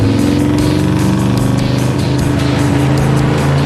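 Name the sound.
Camaro revving and spinning tires at drag strip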